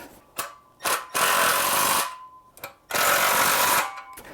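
Milwaukee 12-volt drill driving fasteners while assembling a dumbbell rack, with several short whirring bursts followed by two longer sustained runs, close and clear, no talking.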